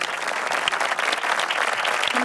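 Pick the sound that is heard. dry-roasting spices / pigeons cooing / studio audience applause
studio audience applause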